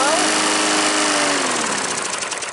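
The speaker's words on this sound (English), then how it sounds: "Nice little mower" A small 3.5-horsepower, 18-inch lawn mower engine runs loud and close with a steady buzzing drone that slowly settles in pitch.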